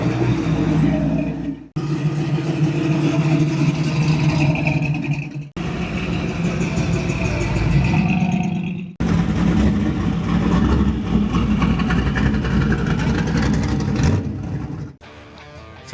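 Engine of a Ford Country sedan running at a car show rod run, a steady rumbling idle and revving broken by short pauses, with crowd ambience around it.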